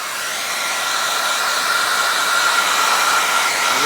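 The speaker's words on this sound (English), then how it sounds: "It's a really, really hot hair dryer" A loud, steady hair dryer blows hot air continuously while heating a phone skin wrap, a broad airy whoosh with a faint whine, close by and with no talking.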